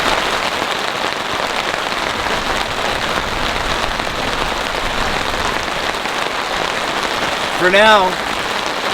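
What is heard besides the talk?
heavy rain during a storm while camping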